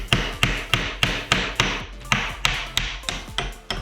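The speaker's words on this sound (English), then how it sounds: "get a plug, insert it into the hole you've just drilled, tap it home" A hammer taps a plastic wall plug into a freshly drilled hole in a wall, about a dozen sharp, evenly spaced knocks ringing out close and alone.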